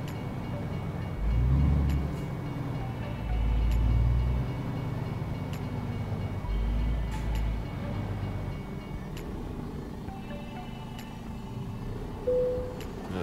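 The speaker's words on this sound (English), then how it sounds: "So oh, there goes that other train." A train rumbles past in the Euro Truck Simulator 2 driving game, its low rolling drone swelling and fading in several heavy pulses over a steady engine hum, with faint clicks above.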